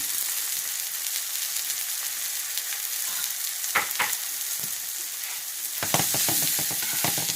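Meatless sausage sizzling steadily in a frying pan, a continuous close hiss broken by a few sharp crackles and utensil scrapes, growing louder and busier near the end.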